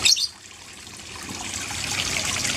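Water trickling and splashing continuously, a soft hiss of falling water that gently swells toward the end, close by with no voices.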